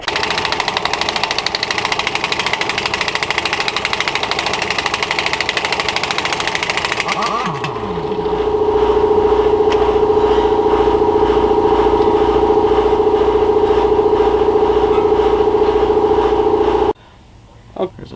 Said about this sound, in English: I'm gonna get the air tool out and remove this